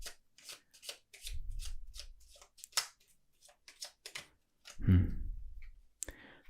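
Tarot cards are shuffled and dealt out by hand, with close crisp flicks and snaps, a soft rubbing shuffle, and a fuller riffle toward the end.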